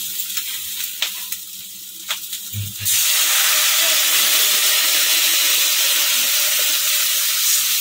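Vegetables for shukto cook in water in a pot: after a few quiet knocks, a loud, steady bubbling hiss starts abruptly and keeps going close by to the end.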